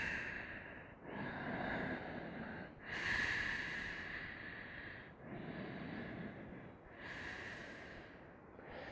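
Slow, deep breathing in a yoga class, with long inhales and exhales in a steady rhythm of about four audible breaths, close and soft, some carrying a nasal snort-like edge.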